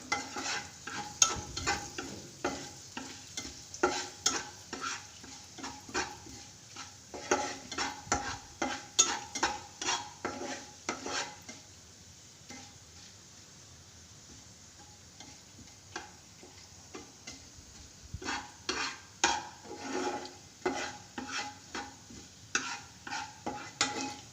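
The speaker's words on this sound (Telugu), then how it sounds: "బాగా వేయించుకోవాలి." Ingredients for palak paneer stir-fried in a pan, with quick scraping spatula strokes and clinks in bursts over a soft sizzle, close and clear, pausing briefly midway before the stirring resumes.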